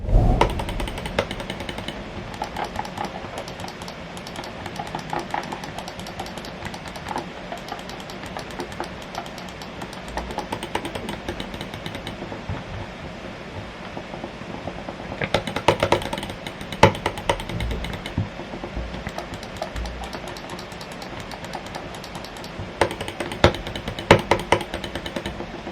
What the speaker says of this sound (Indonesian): berikut ini deh contoh feedback dari semua tombol yang ada di mouse ini